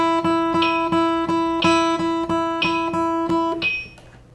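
Guitar picking steady eighth-note triplets across two adjacent strings, even three-note groups per beat with sweep-started accents, bright and close, ending on a ringing note.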